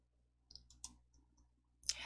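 Several small, faint computer mouse clicks, scattered and quiet, while working in presentation software.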